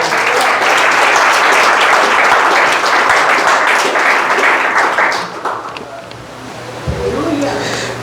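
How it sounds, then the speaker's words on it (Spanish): Loud applause from a church congregation at a Spanish-language sermon, thick sustained clapping that fades after about five seconds into quieter room noise with a few scattered sounds. "Dale fuerte el aplauso."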